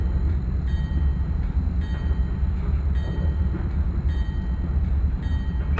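A train rolls along at about 62 mph in a railway simulator game, a steady low rumble of wheels and motors with faint periodic clicks at an even pace, with no voices.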